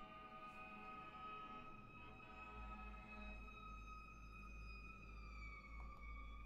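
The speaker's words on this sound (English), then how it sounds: "I don't know if you can hear the ambulance just screaming by." An ambulance siren screams past at a distance, its steady high tones holding and then dipping as it moves by, over a low background rumble and no talking.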